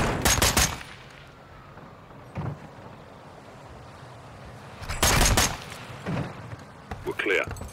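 Call of Duty Modern Warfare 2 gunfire during a room-clearing sequence, short loud bursts of shots separated by quieter gaps, with talk in between.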